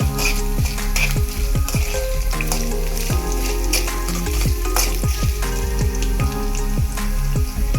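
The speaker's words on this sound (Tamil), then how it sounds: "தேங்காய் நல்லா கோல்டன் கலரில் ஃப்ரை பண்ணி எடுத்து" Coconut fries golden in a pan for a beef curry, a loud steady sizzle punctuated by frequent sharp spoon scrapes and clanks against the metal, close and continuous with no voices.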